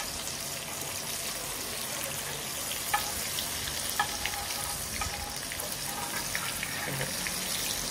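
Surmai (kingfish) fries in a pan after being flipped, giving a steady, close sizzle with a few small pops and clinks over the continuous hiss.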